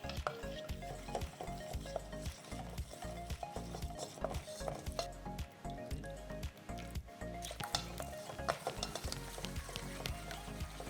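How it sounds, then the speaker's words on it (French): A whisk stirs hot cream into melted chocolate for a ganache, making a steady run of soft, wet squishing and tapping strokes, close and fairly quiet, with no talk. "L'émulsion, c'est le fait de tourner du centre jusqu'à l'extérieur pour que le chocolat et la crème se mélangent"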